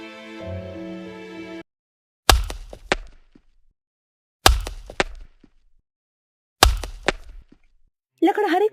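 A woodcutter swings an axe into wood in a forest setting, three loud, sharp thwacks spaced about two seconds apart, each followed by brief splintering rattles; a brief musical tone precedes the chops and a short voice-like burst closes them.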